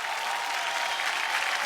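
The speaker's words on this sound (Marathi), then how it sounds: "जोरदार टाळ्या ताईंसाठी होऊन जाऊ देत" An audience at a televised women's show claps loudly and steadily, a dense, continuous burst of applause with no pauses.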